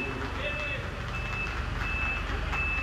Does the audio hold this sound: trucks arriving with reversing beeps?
yes